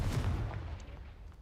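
A Confringo fire spell explodes in the game Hogwarts Legacy: a loud, deep booming blast with a rumbling low end that slowly decays over about a second and a half, with no voices.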